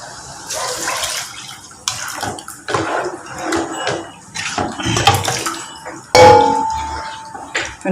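Water poured into a cooking pot while making mutton biryani: uneven splashing and gurgling pours come in several bursts, with clinks of the pot between them and one louder, sharper pour near the end.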